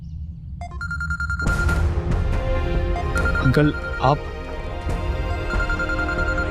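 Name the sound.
telephone ringing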